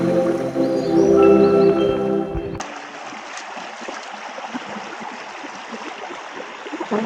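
Clear water flows steadily at a river crossing on the Erumeli–Karimala–Pampa forest pilgrimage route, a close, continuous rushing and trickling heard alone after a brief tonal passage at the start.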